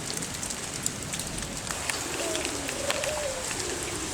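Steady rain patters on surfaces at a pigeon loft in Cilacap, a continuous hiss with scattered drops, while pigeons coo softly nearby.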